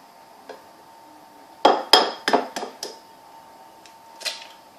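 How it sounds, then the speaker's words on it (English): Two eggs are cracked into a bowl for éclair dough, heard as a close cluster of sharp taps and clicks against the rim with a few lighter knocks afterward, in a quiet room. "crack 2 eggs into a bowl"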